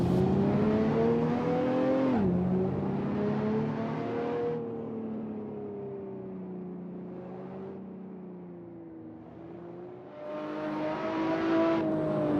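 Engine note of a Toyota GR Supra A90 (2020) in a racing-sim mod, rolling downhill on a mountain road; a steady, fairly loud drone that rises and falls in pitch through gear changes, with no talk.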